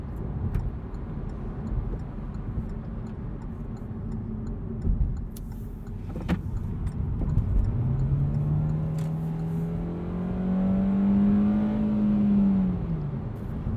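A 2020 Hyundai Accent Limited with a CVT accelerating through simulated shift points, its modest engine drone rising in pitch in steps and then falling away, heard from inside the cabin with steady road noise beneath.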